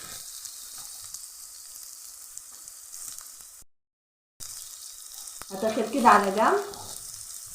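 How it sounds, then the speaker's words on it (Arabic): Onion and hot pepper sauté in a pan for a creamy white-sauce pasta with shrimp and crab, a soft sizzle under a brief spoken remark, swelling into a louder crackling burst as the pepper hits the pan after a short silence. "وبعد ما البصل يتشوح معايا شويه ودبل، هنزل كده بالفلفل الحار بتاعنا الجميل"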